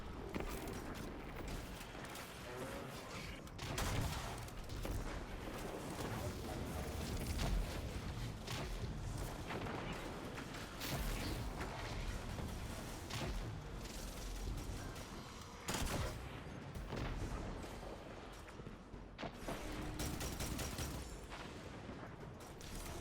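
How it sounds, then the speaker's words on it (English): Explosions and rapid gunfire from the Destiny 2 video game, a dense, continuous barrage of loud blasts and shots with no pauses, with no speech. "Let's throw a grenade."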